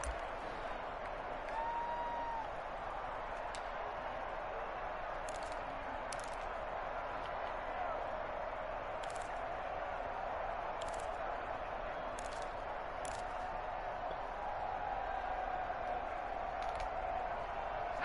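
Stadium crowd noise from a video game football broadcast, a steady, dense roar of cheering fans building ahead of a big third down, with a few sharp bursts scattered through the broad wash of sound.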